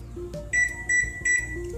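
A microwave oven's keypad set to micro mode for three minutes while making ghee: three short, bright electronic beeps in even rhythm, close and clear over a low hum.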